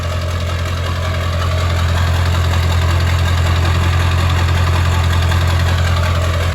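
A Ford OBS Powerstroke diesel truck engine with a new 5-inch exhaust idles close and loud, a steady deep rumble with a light knocking clatter running evenly throughout and no talk.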